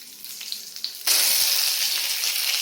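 Curry leaves and dried red chillies drop into hot oil with popped mustard seeds, bursting into a sudden loud, steady sizzle close by after a quieter second of crackling, with no talking.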